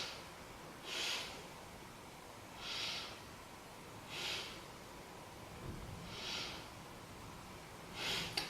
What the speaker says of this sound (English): Take 3 breaths here into the belly